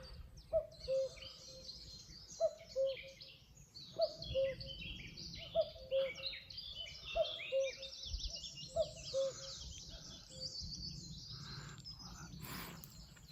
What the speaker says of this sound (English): I thought you might like to hear the first cuckoo of spring.